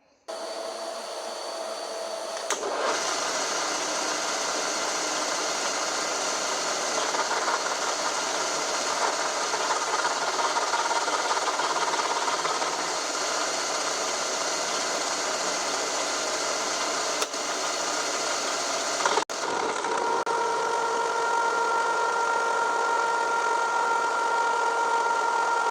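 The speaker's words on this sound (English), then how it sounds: "See, I just got to machine off a little bit of taper on each side of it" A machine runs steadily while cutting a small taper off each side of a metal part for a Land Cruiser rebuild, a loud continuous whirring drone with brief clunks, close and without voices.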